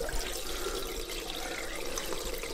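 Running water from a narrowboat's water pump flows steadily and fairly loudly, a continuous splashing rush with no pauses.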